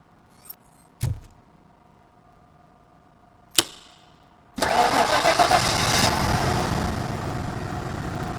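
Car engine in RoboCop Rogue City, fixed after a disconnected coil: a few sharp clicks and a cranking attempt in near silence, then the engine catches and settles into a steady, loud idle.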